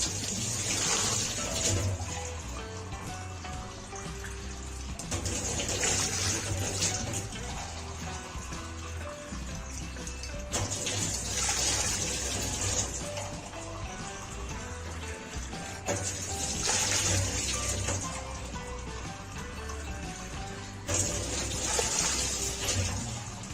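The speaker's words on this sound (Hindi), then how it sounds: "हमने इसको इतना पानी डालना है" About three litres of water pour into a cooking pot of beef for champ pulao, making a continuous splashing gush that comes in repeated surges every few seconds. The pouring stays steady and moderately loud, with no one talking over it.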